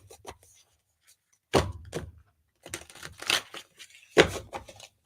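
Tarot cards being shuffled by hand, heard as scattered soft riffling and papery slaps in short bursts with quiet gaps between.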